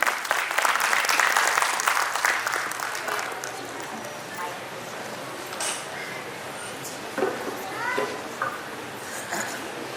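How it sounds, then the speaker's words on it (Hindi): Audience applause at a ceremony where a district judge and guests of honour are welcomed on stage. It starts as a dense burst of clapping, then thins and fades over several seconds while voices carry on. "जोरदार तालियों के साथ एक बार तालियां हो जाए स्वाति बाटला जी के लिए"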